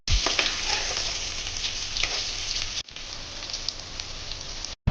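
Cut onions frying and being stirred in a pot for mutton head curry, a dense continuous sizzle up close with occasional stirring scrapes, breaking off briefly twice, no voices.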